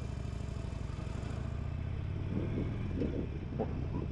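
A 2021 Harley-Davidson Forty-Eight motorcycle idles and rumbles steadily at a stoplight, with other engines passing nearby in traffic.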